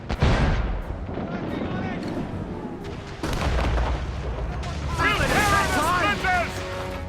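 Mortar and cannon fire in the naval combat of the video game Assassin's Creed Rogue Remastered: repeated booming blasts over continuous battle noise, with voices talking and shouting throughout.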